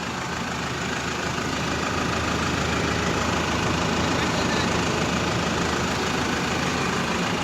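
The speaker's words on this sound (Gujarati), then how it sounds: "ટ્રેક્ટર ચાલુ છે, બરાબર." A New Holland Workmaster 105 tractor, a 105 HP machine, idles with a loud, constant low rumble and a fine mechanical knock, steady and close throughout.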